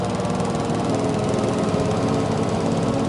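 A farm mower cutting grass in Farming Simulator 22, a dense, steady engine drone with rattling knock, loud and unbroken throughout with no voices.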